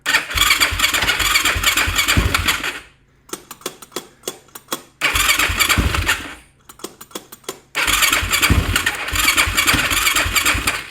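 A YFZ450 quad jump-started with jumper cables fires up loudly and runs, then cuts out to a clicking, ticking crank, catching again twice in a stop-start pattern over about eleven seconds.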